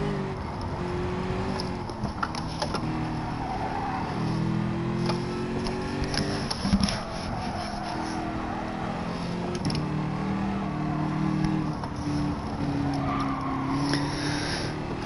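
A Formula 1 race car engine in a racing video game whines and shifts pitch continuously, with tire squeal mixed in and a steady mechanical roar throughout, no voices over it.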